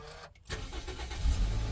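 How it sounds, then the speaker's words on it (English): A car that has sat unused for six days cranks briefly, catches, and settles into a steady, rumbling idle that swells slightly as it runs, heard close and without talk. "Let's start it after 6 days and hope it starts."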